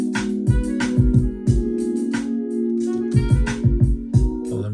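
Horn lead played on a MIDI keyboard in Mixolydian, with sustained brassy notes over a steady droning backing, accompanied by repeated percussive hits in an irregular rhythm, loud and close with no talking.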